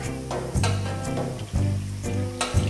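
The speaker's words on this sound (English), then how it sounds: "So first I stir the milk" Milk resting with its cheese culture is stirred in a pot before rennet goes in, giving steady repeated swishing sweeps over a low continuous hum, close and moderately loud.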